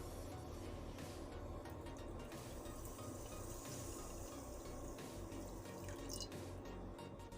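Water poured into a pan for sugar syrup for suji halwa, a faint steady trickling and splashing that runs for several seconds with no talk.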